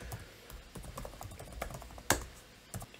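Keystrokes tapping on a computer keyboard while a username is entered at an Ubuntu login screen, a quick run of close, light clicks with one sharper keypress near the end.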